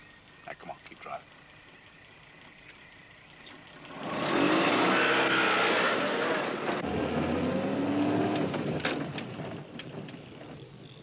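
A car in 1976 drives along with a steady engine rumble and road noise that swells loudly midway and stays under faint wind, with a few short knocks before the engine rises.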